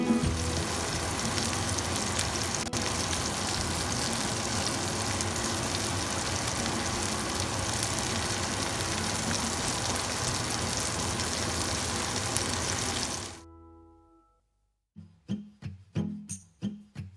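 Garlic butter shrimp sizzle loudly and steadily in a cast iron pan, a constant crackling hiss that stops abruptly, followed by a few clinks and knocks.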